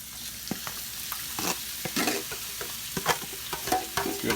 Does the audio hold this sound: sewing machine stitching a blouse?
no